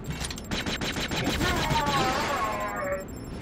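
Rapid automatic gunfire in the Jedi Outcast video game, a burst of quick repeated shots up front followed by a louder blast and a tail of debris, with a voice talking over it.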